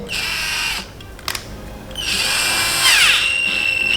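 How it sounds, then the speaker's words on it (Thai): High-pitched whine of an electric drill spinning a valve lapping tool in bursts, stopping briefly and then revving up again with a shrill, wavering tone. "ทีนี้เราก็จะมาใช้ สว่านนะครับ เป็นเครื่องมือช่วยในการหมุนนะครับ"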